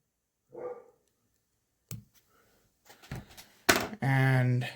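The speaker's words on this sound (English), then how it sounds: "try to see what those dogs are barking at and get them to stop barking" Dogs barking near a riverside fishing spot, a few separate barks spaced apart at moderate distance, with a thunk and a person's voice partway through.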